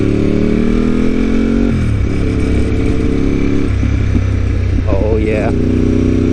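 Triumph Street Triple motorcycle engine running steadily while riding on a road in Japan, a continuous droning hum with shifting pitch, steady and fairly close throughout.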